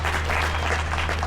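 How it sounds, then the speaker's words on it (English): A launch event crowd claps steadily throughout a short, dense burst of applause over a low steady hum. "And a big round of applause."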